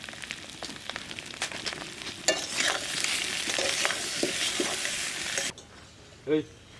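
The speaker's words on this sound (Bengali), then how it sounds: "আলু ভাজা হয়ে গেছে, আমি নামাই নেব।" Potatoes seasoned with turmeric and salt fry in a pan outdoors, a steady crackling sizzle with stirring scrapes for about five seconds before cutting off abruptly, followed by a short faint call.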